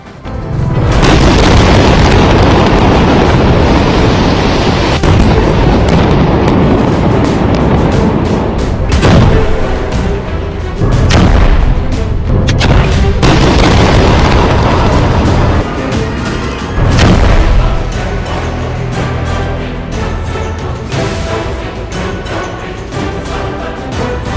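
Repeated heavy booms from Israeli air strikes on Hezbollah positions in Lebanon, loud and continuous, with deep thuds and sharp bursts recurring every few seconds across a dense, rumbling roar.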